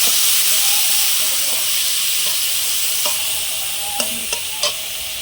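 Onion, garlic and spices frying in a pan with a steady loud sizzle and hiss, a few sharp clinks of the stirring spoon near the end, no voices.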